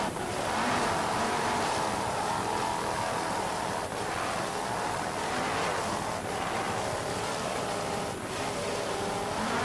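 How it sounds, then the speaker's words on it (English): A racing powerboat engine roars over wind and crashing water, a loud, steady rumble with surges as the hull pounds through rough sea. "throttling the Parts Plus race boat through these rough seas"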